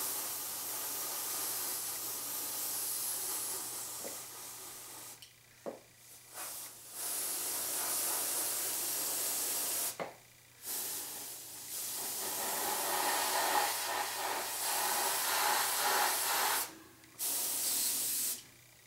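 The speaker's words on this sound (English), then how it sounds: "it looks like it's deciding it wants to spray even." Airbrush hissing steadily as it sprays paint up close, broken by several short pauses where the trigger is released, then resuming in long continuous bursts.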